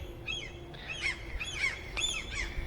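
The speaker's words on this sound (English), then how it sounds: "there are seagulls everywhere on the top of the building" Seagulls call repeatedly from building rooftops in Myyrmäki, Finland, giving a string of squawking cries in loose bursts over a low steady urban rumble, with no talking.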